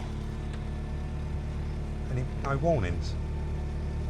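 A cheap, low-mileage barn-find Mini convertible with a 1.6 engine idles just after starting, a steady low hum running throughout beneath close conversation between two men.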